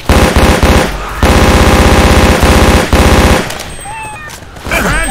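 Rapid automatic gunfire in the Left 4 Dead 2 shooter, loud sustained bursts of rattling shots broken by short gaps, then tapering into scattered game sounds and effects.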